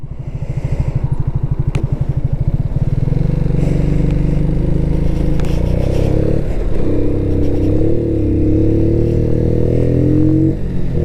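A Kymco K-Light 125 motorcycle engine running close by, a loud steady idle that pulses rhythmically at first, then rises into a rougher, revving drone with some mechanical clatter, with no talk.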